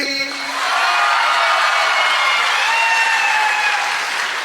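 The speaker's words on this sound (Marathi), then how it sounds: "एकदा जोरदार टाळ्या होत्या प्रीती कांगणेसाठी" Students in a crowd applaud loudly and steadily for a named person, dense clapping filling the whole stretch with a few cheers and whoops mixed in, close and sustained.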